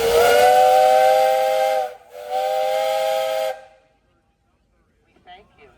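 Loud, close steam whistle sounding at a threshermen's jubilee parade: two long blasts with a brief gap between them, then it falls quiet and faint voices follow.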